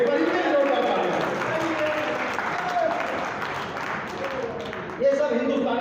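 A crowd at a Haridwar comedy poetry gathering bursts into sustained, loud applause for the poets, dense clapping filling the whole stretch while a voice speaks over it.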